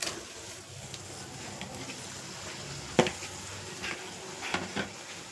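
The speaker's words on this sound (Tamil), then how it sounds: "போட்டு நல்லா கிண்டி விடுவோம்." Ingredients stirred in a frying pan, a soft continuous sizzle with scattered scrapes and clinks from a spoon against the pan, one sharper knock near the middle.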